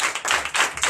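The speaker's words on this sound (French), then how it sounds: "Vous ne voulez pas applaudir pour notre maman" A church congregation at a Sunday service in Comè, Benin claps in unison: a brief run of loud, evenly spaced rhythmic claps from many people, roughly four beats in under a second.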